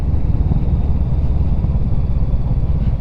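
A VOGE 500DS motorcycle ridden hard through a corner, a close, loud, steady low engine rumble with wind buffeting and no speech.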